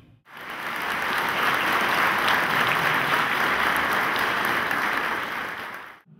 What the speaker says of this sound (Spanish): Fuerte el aplauso, un minuto de aplauso